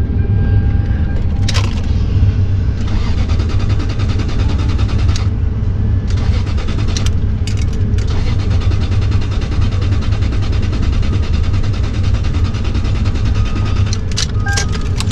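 A car engine at a Copart auction preview, cranking repeatedly without starting amid loud outdoor background noise, with no fuel pump audible.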